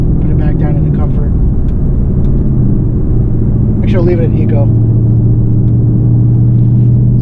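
A Lexus LC 500 with its front-mounted 5-liter V8 rumbles with a deep, steady exhaust drone close by, while someone talks over it.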